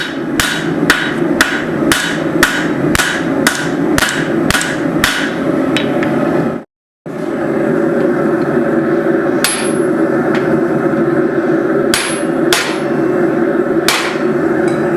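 Steel being hand-forged into a micro hatchet: a rapid run of about a dozen sharp, ringing hammer blows, a brief silent pause, then slower, spaced strikes over a steady background hum.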